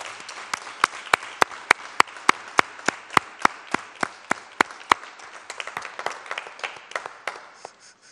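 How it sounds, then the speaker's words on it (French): Sparse applause in a city council chamber, with a few distinct, sharp claps in a slow, steady rhythm that thin out and fade toward the end. "je vous invite à l'applaudir"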